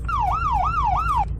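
A Roblox video game police car sounds a fast yelp-style siren, rapidly repeating downward sweeps about four times, loud and up front over a steady engine rumble.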